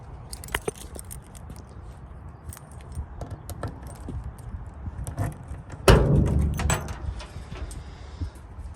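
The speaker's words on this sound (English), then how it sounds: "Where the heck are the keys so I can pop the trunk open?" Car keys jangling near the trunk of a 1969 Camaro, a light metallic rattle throughout with a louder burst of clinking and handling noise toward the end.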